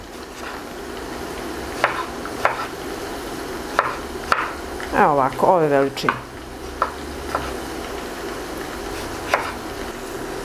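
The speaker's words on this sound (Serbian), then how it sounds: "sada ću jedan patliđan iseći na srednje komade" A knife cuts an eggplant into medium pieces on a board, giving scattered single chops spaced a second or more apart, with a short stretch of talk in the middle and faint frying in the background.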